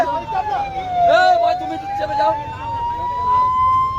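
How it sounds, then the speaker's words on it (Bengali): An ambulance siren wails in a long, slowly rising and falling tone amid traffic at an accident scene, with people talking over it nearby. "এখানে অ্যাম্বুলেন্স আটকে যাচ্ছে"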